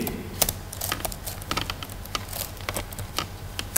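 Keys clatter on a computer keyboard as a slide title is typed, irregular clicks and taps arriving in quick bursts at close range with no voices.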